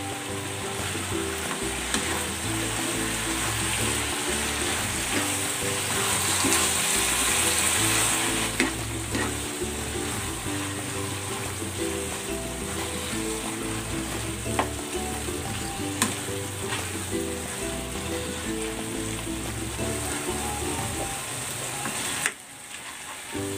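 Ginataang kamansi simmers and sizzles steadily in a pan as moringa leaves and chili go in, a dense continuous bubbling with faint stirring scrapes, close and unbroken for over twenty seconds with no talk.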